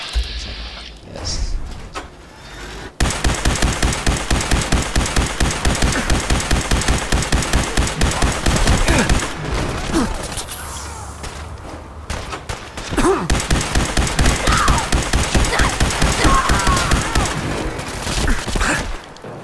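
Sustained automatic gunfire in Fallout 4, loud rapid bursts of evenly spaced shots hammering for several seconds at a time, broken by short pauses and a few thumps between volleys.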